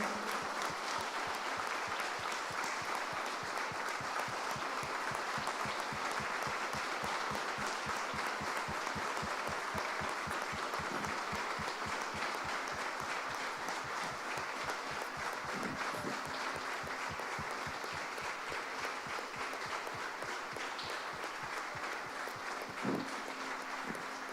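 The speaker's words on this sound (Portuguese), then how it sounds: "Você pode aplaudir a Jesus pela vida do pastor Joviano." A church congregation applauds during a memorial tribute to a pastor, a continuous, even wash of clapping from many hands that holds steady for over twenty seconds at a moderate distance.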